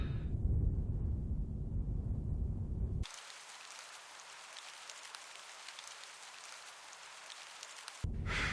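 Rain in England in the video game Her Majesty's SPIFFING: a steady hiss of rainfall, heavier and fuller at the start and again at the end, quieter and thinner in between.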